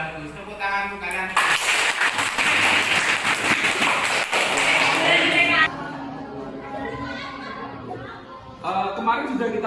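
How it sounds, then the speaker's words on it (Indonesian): Students in a classroom break into loud, sustained clapping for several seconds before it fades into chatter and voices, with a short flurry of claps returning at the end. "tepuk tangan untuk kalian"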